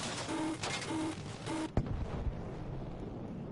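A bomb blast in the Battlefield V video game arrives as a sudden heavy thump cutting through steady battlefield noise, then leaves a lower muffled rumble behind.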